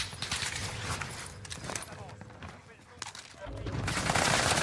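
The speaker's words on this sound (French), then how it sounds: "il y a un autre mec qui me tire dessus comme si ça se faisait pas" Bursts of M13 and Armaguerra gunfire in a shooter video game crackle under a busy mix of game noise, with louder volleys near the start and end.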